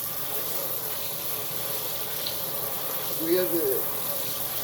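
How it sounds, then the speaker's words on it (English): Running water rushes through a strainer while melon seeds are rinsed, a steady close splashing flow with brief louder gurgles near the end, and a person speaks briefly over it. "I rinse it out of the strainer. Rinse it all out"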